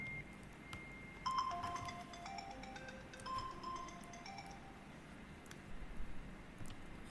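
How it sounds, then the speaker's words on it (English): A mobile phone plays a faint melodic ringtone of repeated tonal chimes during an online Software Freedom Day 2020 session in Ghana, sounding quiet and somewhat distant against a low background hiss, with no voices. "sorry about that phone ringing"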